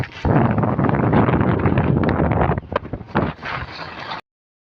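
Strong wind roars and buffets around a house, with a tarpaulin flapping and rustling in bursts; the gusting is loud and close, then cuts off abruptly.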